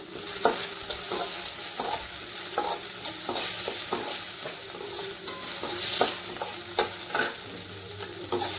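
Capsicum and onion stir-fry over a full gas flame for Manchurian, a loud, bright continuous sizzle with rapid repeated spatula scrapes and knocks against the pan throughout, with nobody talking.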